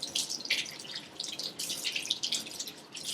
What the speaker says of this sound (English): the water is flowing off the hands into the sink